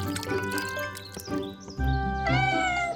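Cartoon mother cat meowing to call her kitten, a couple of drawn-out, tonal meows, close and clear over soft background music with drip-like effects.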